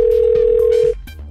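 A steady, loud telephone dial tone drones for almost a second while a call to a friend is placed, then cuts off and leaves quiet background noise.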